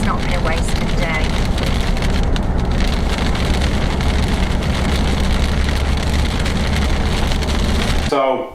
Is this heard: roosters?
no